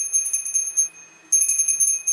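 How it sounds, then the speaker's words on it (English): A prayer bell rings continuously in a drama, a bright high shimmering tinkle with a steady ringing tone, briefly pausing before resuming, distinct but not loud. "We heard a prayer bell ringing continuously."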